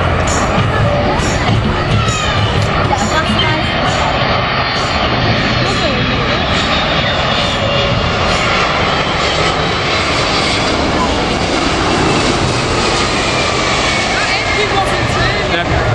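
A Boeing 767 jet roars loudly and continuously during an emergency landing at Manchester Airport runway 23R, its engine noise dense and unbroken, with nearby spectators talking and calling out over it.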